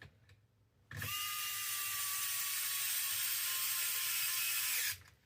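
A small electric screwdriver drives the last inner fender screw on an FMS FCX10 Toyota LC80 RC truck, a steady high whine lasting about four seconds, close and alone.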